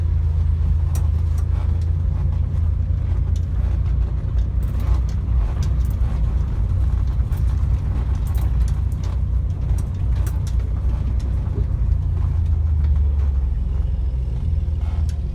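A 1964 Corvair Monza sedan drives along a road, its low engine rumble and tyre noise steady throughout, with small creaks and rattles from the interior and no talk.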